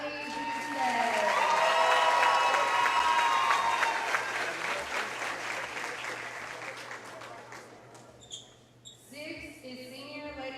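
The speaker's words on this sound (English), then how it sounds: "Everyone, please give a round of applause for senior Lady Ram basketball player number 12, Riley Boucher." A crowd applauds and cheers at a senior ceremony for a high school girls' basketball player, loud clapping swelling early and then thinning out, with an announcer and crowd chatter audible as it fades.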